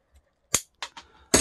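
Scissors snipping through earth sheathing for a figure-of-8 power cord, a few short, crisp cuts close up in an otherwise quiet room.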